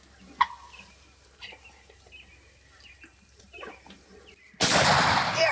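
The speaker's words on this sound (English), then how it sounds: "Right on his head and shoot him, Landon." A single loud shotgun blast at a wild turkey during a Wisconsin spring turkey hunt, ringing out sharply after quiet woods filled with faint bird calls and soft murmured talk.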